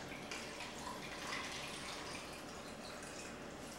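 Cocktail ingredients pour into a glass packed with ice, a steady liquid stream running continuously at close range with no talking.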